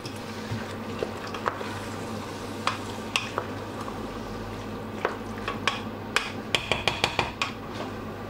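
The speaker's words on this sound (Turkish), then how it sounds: "Şöyle bir karıştırıyorum." Drained chickpeas are stirred with tomatoes in a pot, a spoon scraping and tapping against the sides in irregular clinks over a low simmering hiss, faint and close.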